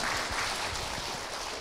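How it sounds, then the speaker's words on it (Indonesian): Audience of mothers at an Islamic sermon breaking into applause, a dense, steady clapping that fades slightly toward the end. "Tepuk tangan ibu untuk Abi"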